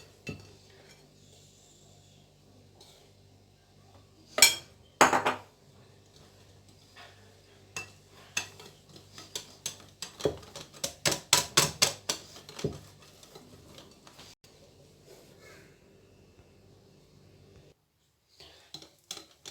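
Banana cake batter being mixed in a bowl, with scattered clinks and taps of a utensil against the bowl. They cluster into a quick burst of scraping strikes midway, then thin out near the end.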